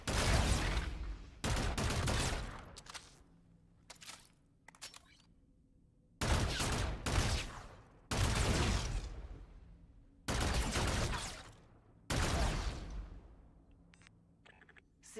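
Weapons fire at a VR firing range in Call of Duty: Infinite Warfare: about six sharp bursts of rapid automatic gunfire, each lasting a second or two, separated by short quiet gaps with a few faint clicks.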